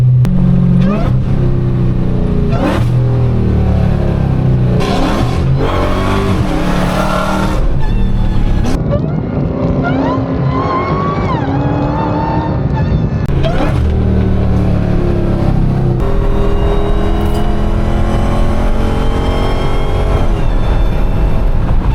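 A Dodge Hellcat revs hard with tire-burning wheelspin, a loud, continuous engine roar with rising and falling pitch and some wind buffeting, close to the microphone throughout.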